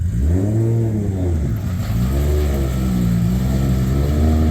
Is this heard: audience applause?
no